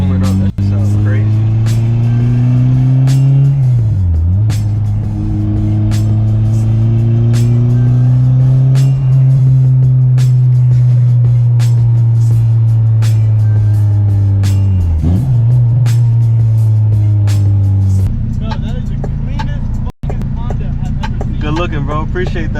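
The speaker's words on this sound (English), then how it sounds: "you just hear the turbo spooling" A boosted 9th-gen Honda Civic (2012–2015) engine drones loudly up close while the turbo spools with a rising whistle, pitch shifting with the revs as people talk over it.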